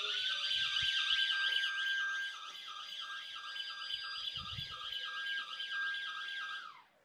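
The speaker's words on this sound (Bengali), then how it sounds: "তাৎক্ষণিক অ্যালার্ম তো বাজবেই, আপনার মোবাইলে নোটিফিকেশন চলে যাবে" Smart security system alarm set off when someone touches the electric fence wire; a loud, warbling electronic siren cycles steadily for several seconds, then cuts off abruptly at the end.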